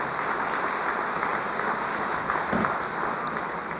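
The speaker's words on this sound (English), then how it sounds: "thank you, that needs applause" Audience at a Blarney Breakfast event applauding steadily, a dense, even wash of clapping throughout with a few sharper claps near the end, no talk over it.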